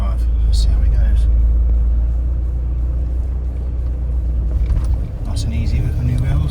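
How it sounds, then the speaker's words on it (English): VW Transporter van driving on new Swamper wheels with 245/65 R17 tyres, a steady deep engine and road rumble heard from inside, with tools and spare wheels rattling in the back. "off we go on our test drive"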